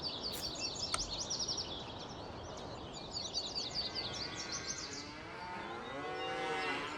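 Cow lowing in Farming Simulator 19, with drawn-out bellowing moos rising near the end of the clip over a steady outdoor farm ambience full of chirping birdsong.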